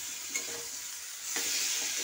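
Fried soybean chunks and potatoes sizzle in spiced masala in a pan, with a spoon scraping and stirring through a steady hiss that swells louder toward the end.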